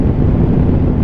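Strong wind buffeting a rider on a 2021 BMW 1250GS motorcycle at speed, a steady, loud, dense low rumble of roaring air with no voices.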